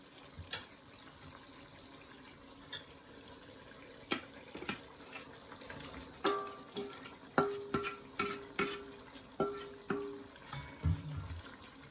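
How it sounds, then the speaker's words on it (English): A spoon stirs shrimp through a coconut milk curry in a pot, with soft scraping strokes and clinks against the pan that grow busier and louder toward the end, no talking. "Now you give that a stir, so all the prawns can soak up all that nice curry, gravy juice into it."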